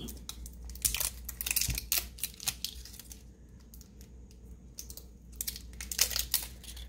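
A crinkly plastic Dollar Tree blind bag rustles and crackles close up as it is slit open, in irregular bursts of sharp crinkling with quieter moments between.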